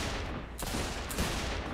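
Pistol shots in the video game Saints Row 4: dense, continuous gunfire with a couple of sharper cracks standing out, loud throughout and with no talk.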